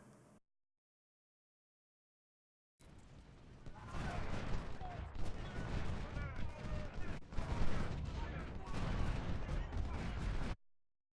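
Musket volleys crackle in a Civil War strategy game set at Second Bull Run, as infantry and sharpshooters open fire; dense, continuous rolling gunfire sounds loud and close after a brief silence, with no talk over it.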